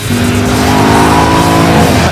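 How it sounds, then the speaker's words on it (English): A supercar tears around a proving-ground track at speed, its engine a loud, steady, near roar with sustained droning pitch that holds for the full stretch, no talking over it. "Oh my God, this car is so ridiculously fast."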